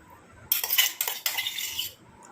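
A spoon scraping and clinking against an iron kadai as hibiscus flower paste is added, two or three brief metallic bursts over about a second and a half, close and fairly loud, no talking.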